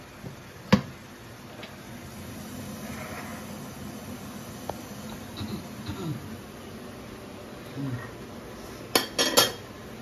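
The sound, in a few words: lid placed and saucepan set down on stove for frying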